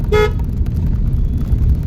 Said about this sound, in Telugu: హార్న్ హార్న్ కొట్టు